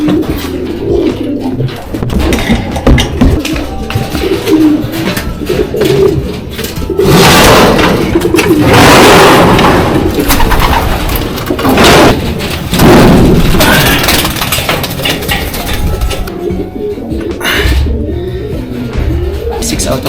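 Racing pigeons at a loft after a derby race, with soft cooing and wing thumps close by while people talk over them throughout.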